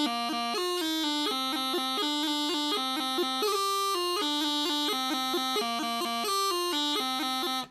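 A bagpipe plays the second part of a tune, a bright, reedy melody of quick changing notes over a steady tone, played continuously and alone with no talking.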